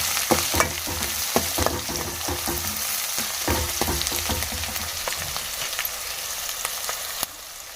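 Peanuts, dry chillies, curry leaves and onion fry and sizzle in a pan, with a steady crackling hiss broken by frequent scraping stirs of a spoon, close up and without talk.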